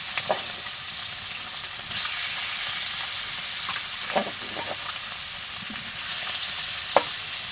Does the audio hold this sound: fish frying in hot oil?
yes